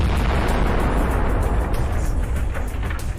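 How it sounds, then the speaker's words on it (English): A tank's ammunition blows up after a kamikaze drone strike, a continuous dense roaring rumble of explosion and fire, loud and heavy throughout without pause. "The explosion was so powerful that the tank's turret was blown off."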